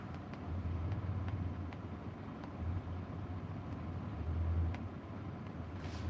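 A 2011 GMC Terrain engine idles and revs up during a test for a catalytic converter fault code, a low, rumbling drone that swells and eases a few times, heard nearby without talking.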